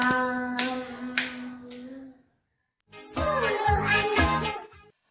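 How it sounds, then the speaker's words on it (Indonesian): Children clap along at an online Sunday school worship service, with sung or spoken voice and tonal music in the first half, then a burst of rhythmic hand claps mixed with voices after a short pause. "Oke, tepuk tangan."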